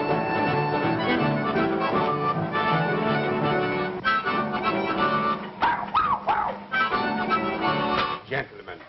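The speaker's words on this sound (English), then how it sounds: "what kind of a dog is this? A bit of a Pomeranian, sir." A small Pomeranian dog gives a few short, high yips and whimpers near the end, heard over loud, continuous orchestral music.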